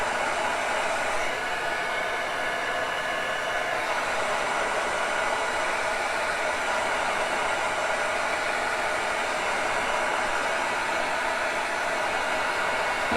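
A hair dryer or heat gun blows hot air onto a bathroom surface being painted, a steady, loud, unbroken rushing whoosh that holds without pause throughout.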